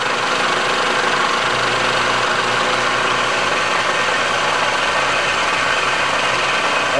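A milling machine spindle hums steadily at roughly 800 to 1,000 RPM while clearancing cylinders for a 1973 Honda CB750 custom build, producing a loud, even, continuous mechanical drone with no talking.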